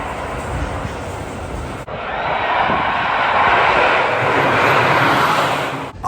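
Superman roller coaster launching at Six Flags Magic Mountain: a loud rushing roar that breaks off, then swells again into a sustained whooshing surge that fades near the end.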